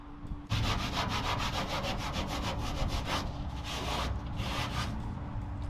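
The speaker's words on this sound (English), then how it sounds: "I'm gonna scrub it and see what happens" Vigorous back-and-forth scrubbing on a 1950 Cadillac hearse coated in foam kitchen cleaner, loud rhythmic rubbing strokes that begin after a brief pause and keep going without letup, with no voices.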